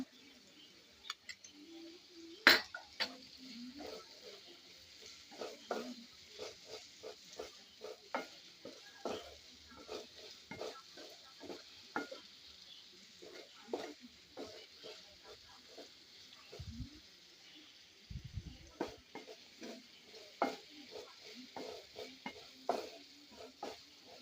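Onions with a pinch of salt are stirred and sautéed in a pan for a macaroni dish, heard as faint, irregular scraping clicks over a soft sizzle, with low murmurs in the background.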